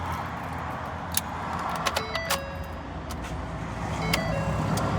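A 2019 Ford F-150 with 94,000 miles is started up: a few clicks and a brief whir, then a steady low engine idle rumbling close by, with no talking.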